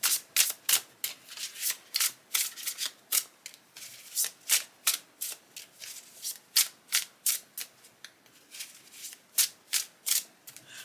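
A new tarot deck is riffled and shuffled by hand, crisp papery bursts repeating in a steady rhythm of roughly two per second, close and fairly quiet with no talking.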